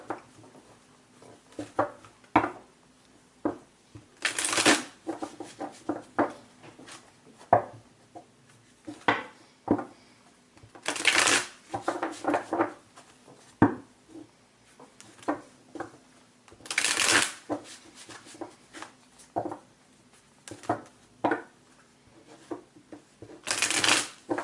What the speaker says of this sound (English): One more shuffle for my Tauruses.